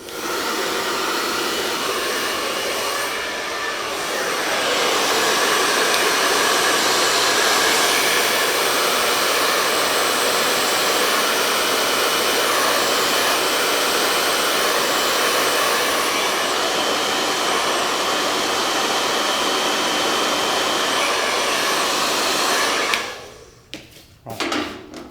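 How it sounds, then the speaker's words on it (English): A hair dryer on its cold setting blows a steady, loud, broadband rush of air that holds for over twenty seconds before cutting off abruptly near the end. "Hairdryer with cold air."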